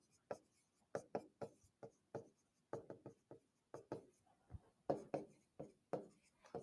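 Pen strokes scratch on paper while a L'Hopital's rule lesson is written out, a rapid series of short, close, quiet scribbles in uneven bursts with brief pauses.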